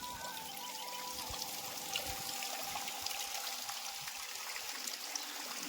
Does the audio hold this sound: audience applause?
no